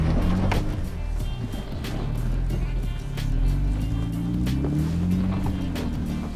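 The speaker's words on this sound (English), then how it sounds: "I'm gonna just put my tires on both of these big rocks right here" Jeep crawling over big rocks on the Last Chance Canyon trail, a low engine rumble rising and falling as it climbs, with scattered crunches and knocks from tires on stone.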